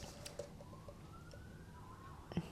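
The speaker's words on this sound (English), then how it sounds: "I hear police sirens" Faint, distant police sirens rise and fall in a thin wail behind a quiet room hum, with a couple of soft knocks nearby.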